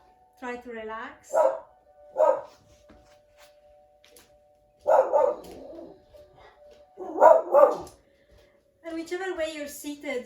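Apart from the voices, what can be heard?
dog barking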